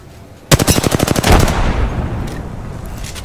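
Rapid automatic gunfire in the video game Apex Legends, a loud close burst of evenly spaced shots lasting about a second, then a decaying echo tail.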